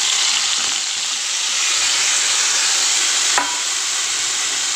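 Pointed gourd and potato sauté in hot oil with spices, giving a steady, loud, close sizzle that runs unbroken throughout, with a brief clink partway through and no talking.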